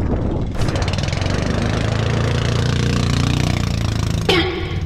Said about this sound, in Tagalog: Medyo hirap yung makina eh.